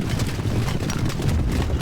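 Horses gallop into a medieval battle in Stronghold Legends, a continuous, dense rumble of hooves and clatter that stays loud throughout, with no voices.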